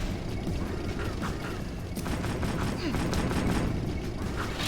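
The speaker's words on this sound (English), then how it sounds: "the best way of dodging the security tank's gunfire is by rolling." Security tank gunfire in the Jak II video game, a dense continuous barrage of blasts and booms that fills the whole stretch at steady loudness, with game effects layered in.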